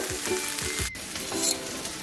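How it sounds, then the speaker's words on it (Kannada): Okra (bhindi) frying in a pan for a masala curry, a steady close hiss of sizzling oil with a few soft stirring scrapes, no voices. "ಬೆಂಡೆಕಾಯಿ ಇಷ್ಟು ಫ್ರೈ ಆದರೆ ಸಾಕು"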